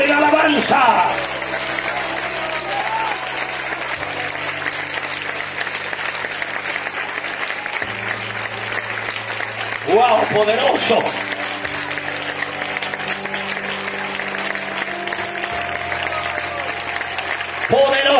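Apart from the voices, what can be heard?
congregation applauding loudly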